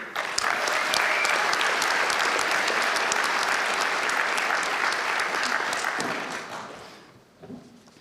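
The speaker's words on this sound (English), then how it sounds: "we'll clap for the next person coming up on the stage" At a University of Galway winter conferring ceremony, the audience gives a sustained wash of applause for about six seconds, then it fades away, leaving a brief murmur.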